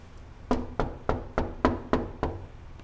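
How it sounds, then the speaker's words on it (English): Seven sharp knocks on the door to Bobby's place, evenly spaced and fairly close, each ringing out briefly before the next, heard alone without voices. "I'm gonna knock on Bobby's door."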